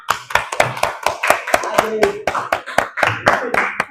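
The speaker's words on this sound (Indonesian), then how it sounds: "Tepuk tangan dulu untuk kelompok 2." Rhythmic group clapping for a student group at a classroom presentation, about a dozen sharp, evenly spaced claps close by, with voices murmuring and a short vocal sound between beats.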